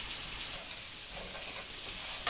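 Koji-activated mushrooms sizzling and frying in a hot pan, a steady, dense crackle that holds evenly throughout at close range with no talking.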